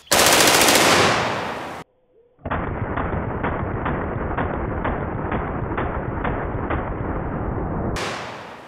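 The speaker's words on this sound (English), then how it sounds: "now that we've dumped two mags and really felt the power of this rifle, let's see if we can actually hit something with it." A powerful rifle fires at targets outdoors. A loud, rapid burst is followed by a brief pause, then a long, steady string of shots, all close and very loud.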